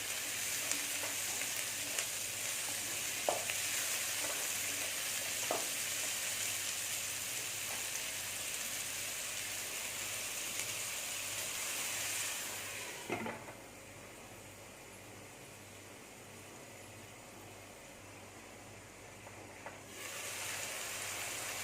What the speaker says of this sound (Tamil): அந்த சமயத்தில் மஷ்ரூமை சேர்த்துருங்க அதுவும் வெங்காயத்து கூட கொஞ்சம் நேரம் வதங்கணும்